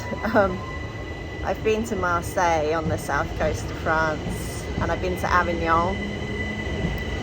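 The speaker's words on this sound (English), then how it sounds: "Excuse the train sound." A train passes on a nearby railway, its wheels squealing and rumbling steadily throughout while a person talks over it.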